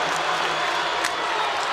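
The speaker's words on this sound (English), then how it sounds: "Crowd can't believe that call" Crowd in a basketball arena at a 1988 NCAA women's championship game reacting to a foul call, a steady, fairly loud wash of murmuring and shouting voices from many people, with no single voice standing out.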